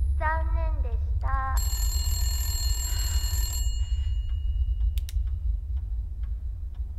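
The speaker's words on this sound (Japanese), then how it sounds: "電話？" Telephone ringing in the video game Resident Evil Village: a loud electronic ring with repeated trilling bursts, then a sustained tone lasting a couple of seconds over a low rumbling ambience, followed by a few faint clicks.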